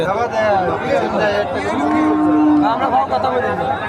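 Cattle low loudly and close at a busy village cattle market, a long drawn-out moo rising over a dense background of crowd chatter and voices.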